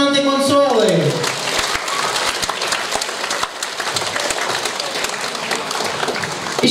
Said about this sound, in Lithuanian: Taigi dar kartelį aplodismentai Consuelai.